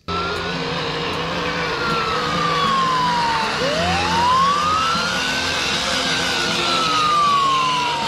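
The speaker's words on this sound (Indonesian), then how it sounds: "Truk pemadam kebakaran" A toy fire truck siren wails continuously, sweeping up and down in pitch over a steady electronic hum, loud and close throughout.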